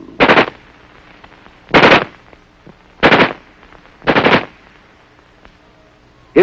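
An M16 XM16E1 rifle fires four loud, short automatic bursts spaced about a second apart, close and sharp, with near silence between them.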